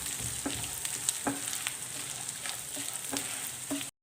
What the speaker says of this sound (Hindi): तो हम इसमें जो बचा हुआ बाकी का गोंद है वो डाल देते हैं, और सेम प्रोसीजर से हम इसको भी फुला के निकाल लेंगे।